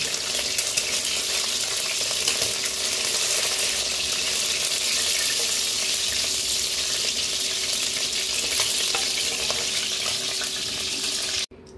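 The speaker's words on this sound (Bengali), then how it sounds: "এবারে কড়াইয়ের তেলের মধ্যে আমি দুটো কাঁচা লঙ্কা দিয়ে দিলাম, দিয়ে পেঁয়াজ বাটা দিয়ে দিলাম।" Green chilies and onion paste fry in hot oil in a wok with a dense, even sizzle that holds for about twelve seconds and then cuts off abruptly. No speech is heard.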